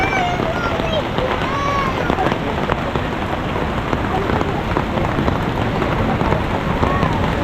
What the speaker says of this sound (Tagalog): Ayan na naman ang ulan.